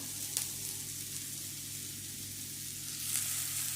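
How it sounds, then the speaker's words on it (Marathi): Chopped onion fries in a pan until it changes colour, a steady close sizzle with a couple of brief stirring scrapes, no talking. "कांदा चांगला कलर बदलेपर्यंत भाजून"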